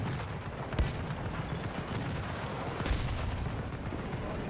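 Grenade explosions in Battlefield 2042 gameplay, two dull, distant booms over a steady background of muffled battlefield gunfire and rumble.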